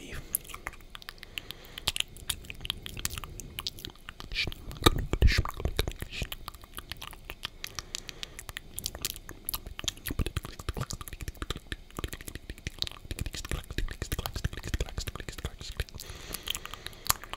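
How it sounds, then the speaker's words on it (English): Close, soft ASMR mouth noises, with wet clicks, smacks and crunchy chewing-like sounds that keep up for the whole stretch, along with faint whispery breath. "Just a little bit more mouth noise, I believe."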